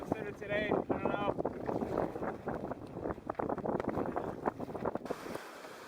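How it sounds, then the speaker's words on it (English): Strong wind gusting around 40 km/h buffets the microphone outdoors by open water on a spring wilderness trip, a steady blustery rumble under someone talking throughout. "wind is gusting to probably 40 kilometers an hour"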